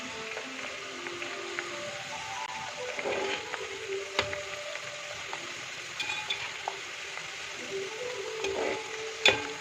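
Jackfruit pieces frying in a pan on a rainy day, a steady sizzling hiss broken by scraping stirs and clinks of the spoon against the pan, close and fairly loud with no talking.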